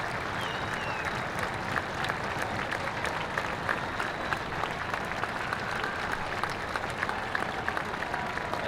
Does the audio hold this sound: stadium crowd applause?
yes